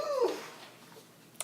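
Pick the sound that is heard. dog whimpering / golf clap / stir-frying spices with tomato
dog whimpering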